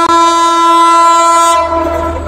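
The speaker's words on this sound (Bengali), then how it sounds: "অলরেডি বেনাপোল এক্সপ্রেস ট্রেনের বাসি আমরা শুনতে পেয়েছি।" A Benapole Express train horn blasts loud and close, a sustained tone lasting about a second and a half before cutting off while rail noise carries on underneath.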